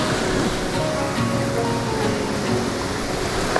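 Steady rushing wash of creek water flowing beside a trail on a desert bike ride, a continuous broadband hiss with no distinct splashes, loud and close throughout, no voices.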